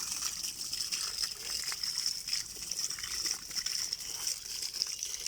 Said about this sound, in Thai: ดูครับมวลน้ำน้ำไหลไหลเร็วครับ